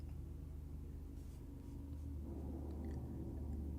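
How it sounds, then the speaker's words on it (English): Low, steady rumble of a trash truck idling and working outside, a continuous heavy drone that swells slightly louder toward the end, with no talking. "And of course, there's the trash truck."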